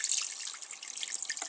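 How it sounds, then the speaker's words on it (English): Water runs from an automatic sensor-activated tap in a brief, faint, steady hiss with no voices. "when I put my hand here, the water should flow"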